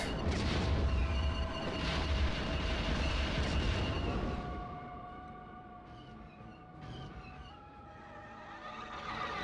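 Explosions blow apart gun turrets in the Rogue Squadron video game: heavy rumbling blasts boom loudly over the first four seconds, then fade into quieter game noise with sustained tones and scattered softer impacts.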